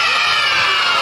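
A group of children shouts together at a kids' fun outing, one loud, dense burst of voices held briefly at full volume.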